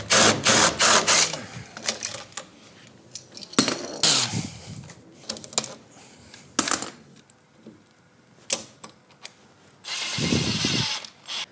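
Screws are undone from a door lock with a hand tool, giving close metallic clinks, ratcheting clicks and small scraping rattles in irregular bursts separated by quiet pauses.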